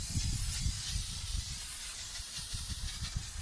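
Continuous pressurized hiss of Würth engine cleaning spray aimed at a motor from about twenty centimetres away, steady and close, with low rumbling fluctuations underneath and no voices.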